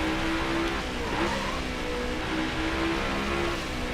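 A NASCAR race car drones steadily around the Sonoma road course in NASCAR Heat 5, its engine holding a loud, continuous roar with slight pitch shifts through the corners, no voices.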